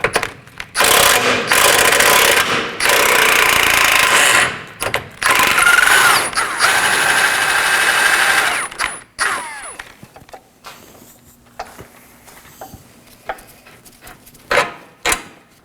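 Wrenches and a ratcheting tool work the lower control arm bolt on a 2013–2019 Nissan Sentra, with the top held by an 18mm wrench, giving loud sustained mechanical grinding and rattling that breaks into short clicks and clanks.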